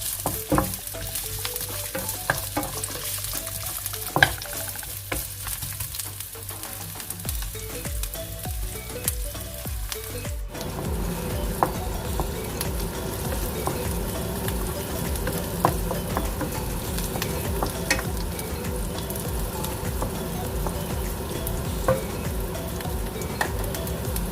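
Garlic and shallots stir-frying in butter in a pan, starting with intermittent clatter and scraping, then a loud steady sizzle that swells after garlic and shallots go in, with stirring scrapes throughout.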